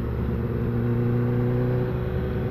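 A motor vehicle engine running steadily while riding outdoors, a constant mid-pitched drone with faint harmonic whine and no voices over it.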